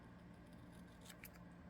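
Scissors snip through paper while craft tags are being made, giving a few quick, faint, close cuts over a quiet background.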